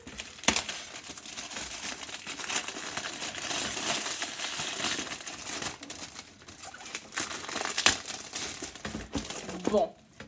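Wrapping paper being torn and crinkled off a large gift box at a Christmas book swap, close and loud with repeated rips and rustles in uneven bursts.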